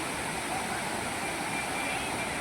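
Lake water at Pali in Beed rushes with a steady, loud, broadband wash like a spillway or waterfall, close and continuous throughout.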